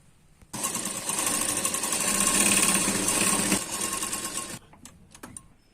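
A sewing machine stitches blouse fabric for a double katori blouse, a loud, close, rapid mechanical whir that runs steadily for about four seconds, then stops, leaving a few light clicks and handling noises.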